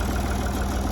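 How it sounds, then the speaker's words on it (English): A farm tractor's engine idles steadily and loudly close by, a continuous low rumble with no breaks or voices. "I got the tractor running"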